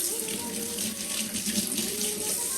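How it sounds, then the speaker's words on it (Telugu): Hot water pours continuously into a jar with washing liquid, a steady close splashing rush without pause. "కొంచెం వాషింగ్ లిక్విడ్ యాడ్ చేసి హాట్ వాటర్ పెట్టేస్తున్నాం"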